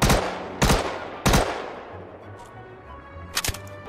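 A P8 gun in Star Citizen fires four sharp, loud shots spaced unevenly, each trailing into a short decaying echo, with a faint electronic hum between them and no talk.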